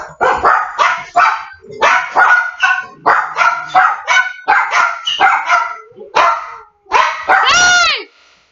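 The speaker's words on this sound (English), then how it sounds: "My neighbor's dogs are out." Neighbouring dogs bark in rapid bursts close by, a string of sharp yaps and woofs roughly every half second, ending in a drawn-out whining howl.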